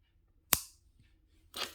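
Wire cutters snip thin jewelry wire for wire-wrapped octopus earrings: one sharp, crisp click up close, followed by a softer rustling scrape a second later in a quiet room.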